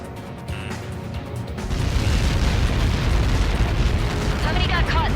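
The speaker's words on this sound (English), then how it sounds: "How many got caught in that explosion?" Huge explosion in the Ace Combat video game as Helios projectiles strike their impact zone: a deep, roaring boom swells after a quieter opening and keeps rumbling loudly to the end, with a radio voice faintly underneath.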